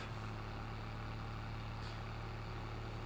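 A steady low video game tractor engine idle drones on without pause, a constant rumbling hum with no talking.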